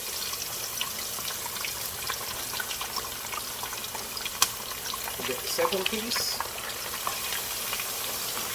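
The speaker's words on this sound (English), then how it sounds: "Watch that sizzle go." Steady crackling sizzle of fish frying in hot oil, close by and continuous, with a person talking over it.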